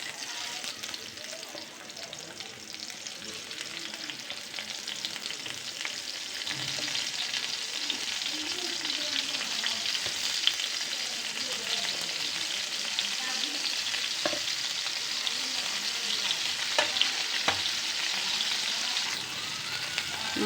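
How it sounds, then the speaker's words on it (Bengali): Fish fries on a hot flat pan, a continuous loud, close sizzle and crackle with occasional faint clinks, steady throughout. "তাওয়াটা গরম হয়ে গেছে, মাছগুলো দিয়ে দিব।"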